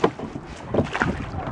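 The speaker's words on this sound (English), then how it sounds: "这是认真划船的人" Paddle strokes splash and slosh in the water while rowing a boat on Lake Bled, with wind buffeting the microphone and no voices.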